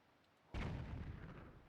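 Cannon fire in the video game The Legend of Zelda: The Wind Waker lands as one sudden heavy boom, followed by a rumbling tail that stays loud to the end.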